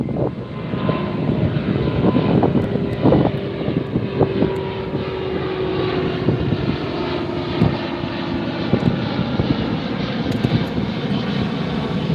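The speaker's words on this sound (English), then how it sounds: "There it is. Lot Airlines. Headed to Warsaw, Poland." A LOT Airlines jet departs Los Angeles International Airport for Warsaw with a steady engine rumble and a sustained tonal hum, while scattered short knocks and clicks from the nearby beach spotting spot punctuate the roar.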